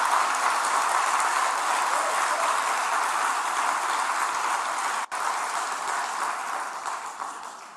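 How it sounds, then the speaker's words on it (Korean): A church congregation applauds at a pastor's installation thanksgiving service, a dense, sustained wash of clapping that holds steady for several seconds, with a brief dip partway through. "박수로 축하드립니다"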